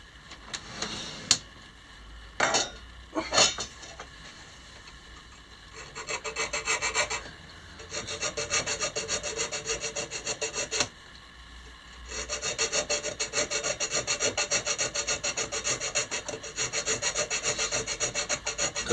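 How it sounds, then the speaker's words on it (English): Metal file rasping down screw holes on an MSI RTX 2080 Gaming X Trio graphics card, a few sharp scrapes followed by long stretches of steady back-and-forth filing, close and fairly quiet with no talking. "I'm just going to file these down a bit so the screws don't go down at an angle"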